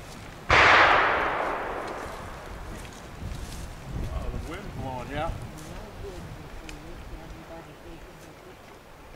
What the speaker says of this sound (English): Man shooting a 58 Cal Hawken.